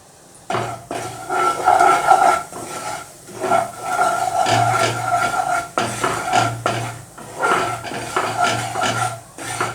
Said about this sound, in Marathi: आता याच तुपामध्ये आपण हे 2 चमचे रवा घेतलेला आहे तो थोडा भाजून घेऊया।